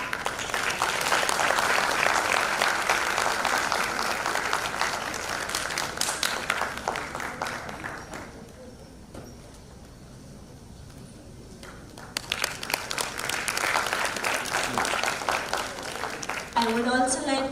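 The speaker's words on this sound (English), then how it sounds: "I would request the audience to clap." Conference audience applauding loudly, with dense steady clapping that fades to a quieter lull midway, then swells again toward the end; speech may be faintly mixed in.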